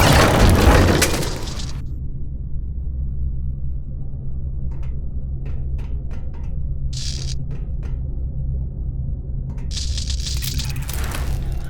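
A burst of crashing destruction in a video game opens loudly, then gives way to a low rumbling drone broken by scattered clicks and short debris-like clatters, with no voices.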